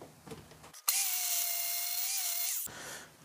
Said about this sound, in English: We need to grind a flat on each corner now.